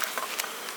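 Honey bees from an open hive colony produce a dense, continuous buzz, close and steady, alone without voices.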